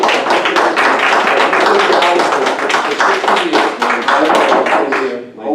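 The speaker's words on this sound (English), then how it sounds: "Hold down the applause" A packed town council meeting erupts in loud, sustained applause. Dense, rapid clapping from many hands continues steadily and then eases slightly at the end.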